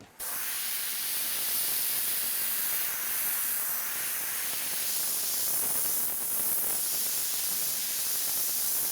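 An airbrush sprays paint onto a motorcycle tank at high air pressure, giving a continuous loud, steady hiss that starts abruptly and runs unbroken throughout.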